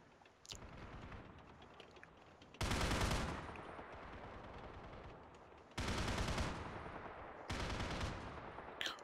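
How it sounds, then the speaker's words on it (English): Gunfire in the war strategy game Men of War: Assault Squad 2, with several loud bursts of shooting breaking over a steady ambient battlefield backdrop, no voices heard. "So I've just shot twice there."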